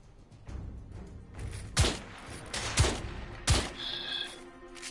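Gunfire in the PS4 shooter The Order: 1886, three loud heavy shots spaced about a second apart over a low rumbling game backdrop.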